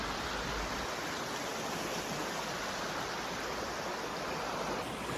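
Roaring Brook, a branch of the Battenkill, rushes beneath the Chiselville covered bridge in Sunderland, Vermont, a steady, loud, broadband wash of flowing water that holds unbroken throughout with no voices.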